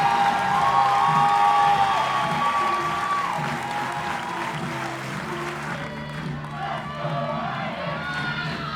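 Home crowd applauding and cheering at a women's softball game, sustained clapping with scattered whoops from the stands, loud at first then easing, over background tones from the stadium.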